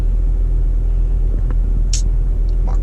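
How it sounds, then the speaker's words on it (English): A sports car sits idling, its engine giving off a steady low rumble throughout, with a few faint high chirps or clicks in the background. "My car got a rumble to it when it's just sitting here."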